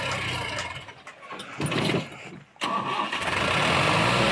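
Sonalika 750 DI tractor engine straining to pull a fully loaded trolley out of soft ground, its diesel roar surging, dropping away twice and revving back up to a sustained loud growl near by.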